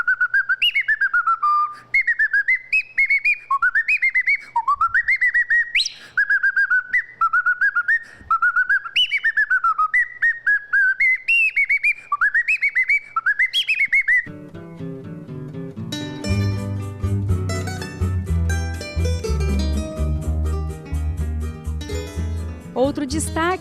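Handmade wooden bird call whistles, carved from woods such as jacaranda, ipê and jatobá, give a run of bright, sliding chirps and warbles imitating birdsong, loud and close. Instrumental music takes over partway through.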